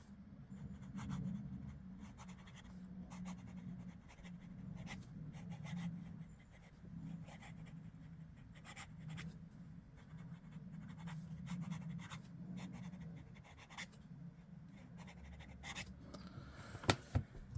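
A fine-nib Moonman (Majohn) M400 fountain pen writes quickly across paper, giving a steady, close scratchy rasp with light feedback and short pauses between strokes. There is no talking.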